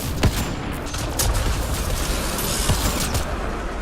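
Gunfire in Mass Effect: Andromeda during a fight with pirates, a continuous loud barrage of rapid shots and booms with dense, overlapping bursts throughout.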